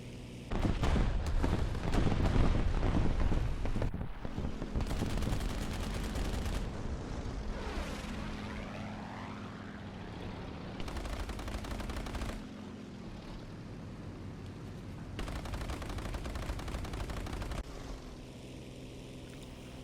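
Heavy machine-gun fire and propeller aircraft engines in a World War II air combat video game, with repeated bursts of rapid gunfire over a steady engine drone and explosions, loud and close.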